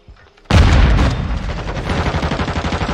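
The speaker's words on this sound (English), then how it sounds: "Throwing grenade!" A grenade blasts in Call of Duty: Warzone 2.0, a sudden loud boom that rolls into sustained rapid gunfire crackling on under it.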